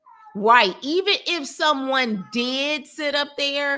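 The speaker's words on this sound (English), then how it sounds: "if you guys hear the cat in the background" A cat meows in the background of a room while a person talks over it, its cries blending with the steady flow of speech.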